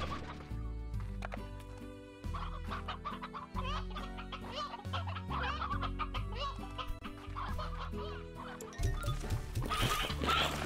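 Chickens in the video game Slime Rancher cluck and squawk repeatedly over a steady background of game music, with busy overlapping calls throughout.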